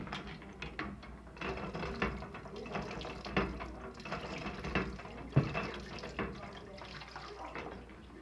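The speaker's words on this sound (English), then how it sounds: "there you have the sound of the old hand pump" Rhythmic creaking and clanking of an old long-handled hand pump, with water splashing and gurgling steadily underneath, close by.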